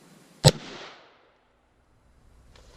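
A single sharp AR-15 shot of a 62 grain round fired at a nylon army helmet, loud and close, with a short fading echo and then near silence.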